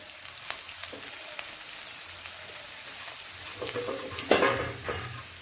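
Chopped onion sizzling in hot oil in a pan for a yogurt chicken dish: a steady, close frying hiss with stirring scrapes and a louder burst of spitting near the end, no talking.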